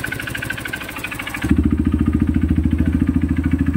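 A Honda CRF150 trail motorcycle engine with a knocking connecting rod runs close by, first at a higher rev, then settling into a loud, rhythmic idle with a steady mechanical knock on every beat.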